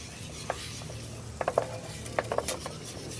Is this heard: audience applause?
no